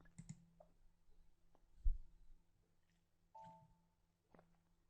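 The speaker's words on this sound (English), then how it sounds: "click the create button" A computer mouse clicks a create button in ABAP programming software: a few soft, close clicks spaced apart against a quiet room, with no talking.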